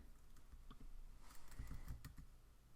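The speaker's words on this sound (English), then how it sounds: "So I'm just going to type in" Quick, close clicks from someone typing a search on a computer keyboard: a fast, uneven patter of keystrokes at moderate volume, with no talking over it.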